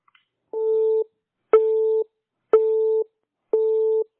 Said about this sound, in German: Die ist besetzt.